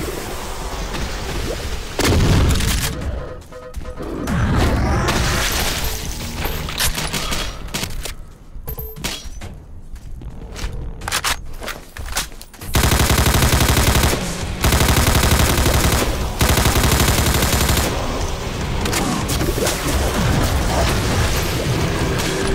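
Chaingunners firing in the video game Doom with the Project Brutality mod, loud rapid bursts of automatic gunfire mixed with booms and explosions, pausing briefly before a dense, sustained volley.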